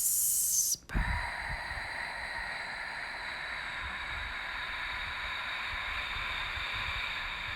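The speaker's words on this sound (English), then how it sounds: "Now on the exhale, you're going to say the word whisper and elongate the R sound." A long, breathy exhale voicing a stretched-out "rr" sound during a yoga breathing exercise, heard as a steady, close hiss with a faint tonal hum. It follows a short intake of breath and continues for several seconds.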